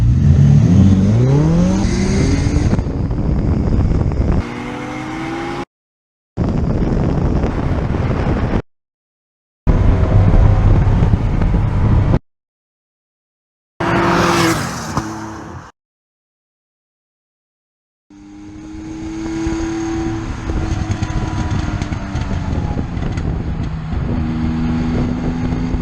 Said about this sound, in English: This will be a drag race from 0 to fun